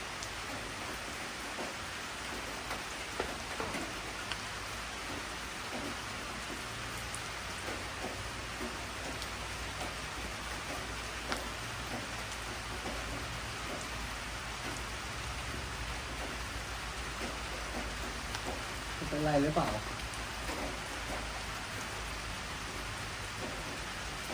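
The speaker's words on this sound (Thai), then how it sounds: "บรรยากาศดีนะฝนตกปล่อยๆด้วย" Rain falls steadily around a rural forest home in a soft, even hiss that holds at a constant level from start to finish, with one brief, slightly louder sound near the end.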